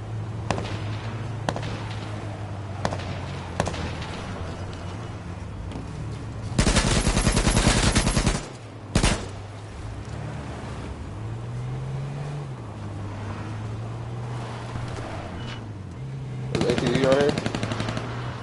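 Sniper and rapid gunfire in the H1Z1 video game, bursts of loud automatic fire with a long dense volley and scattered single shots over a low droning engine hum, voices talking in between.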